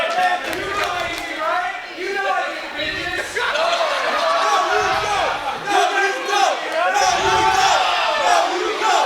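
A wrestling crowd at a Hellseekers match of Steve Pena versus Flip Gordon jeers Gordon with loud shouting and chanting that swells in waves, while a commentator speaks over the noise.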